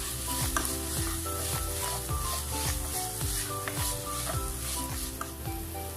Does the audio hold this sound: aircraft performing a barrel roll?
no